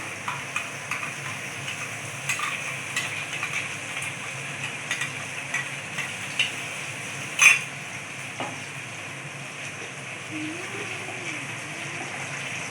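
Freshly ground spice paste frying in a pan, with a moderate sizzling hiss broken by scattered clinks and scrapes of stirring, including one sharper knock partway through.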